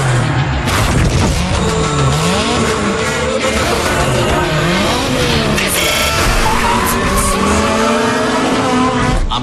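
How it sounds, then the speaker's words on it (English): Race car engines rev and roar continuously during a drag race in the video game Need for Speed Shift 2 Unleashed, with rising and falling pitch sweeps, tire squeal and loud, dense mechanical noise throughout. "Try some drag racing or what?"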